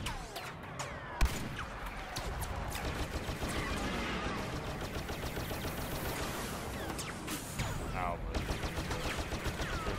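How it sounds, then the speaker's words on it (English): Gunfire and cannon blasts crackle in a Star Wars shooter game, a sharp bang early on followed by continuous dense shooting and impacts for the whole stretch, with occasional voices mixed in. "They're trying to shoot me with that one-shot fucking cannon."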